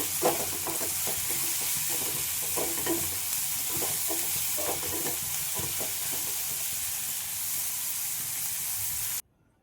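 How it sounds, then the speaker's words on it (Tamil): Onions frying in a pan while being stirred steadily for a bitter gourd thokku, a continuous loud sizzle with rhythmic spoon scrapes for about nine seconds before it cuts to silence. "இப்போ நல்லா வதக்கி விட்டுருங்க வெங்காயத்தை நல்லா பொன்னிறமாக வரணும்"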